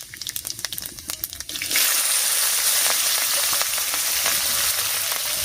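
Green chillies and panch phoron fry in hot oil: scattered crackling pops first, then a sudden loud, continuous sizzle that holds steady to the end, with no talking.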